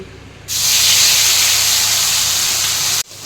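Onion paste with green and ripe chillies hits hot oil for a spicy pomfret fish curry, setting off a sudden loud, close sizzling hiss that holds steady for about two and a half seconds, then cuts away.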